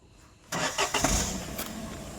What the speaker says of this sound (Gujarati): આ એન ટાઈમે ચાલુ છે બાઈક એન ટાઈમે બંધ થાય